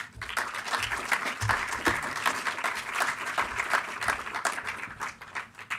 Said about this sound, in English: So please give Tom a round of applause